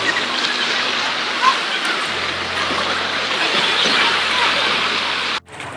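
Floodwater from Mayon volcano rushing through the Cagsawa Ruins after Typhoon Rolly, a steady, loud broadband roar of flowing water that holds for several seconds before cutting off abruptly.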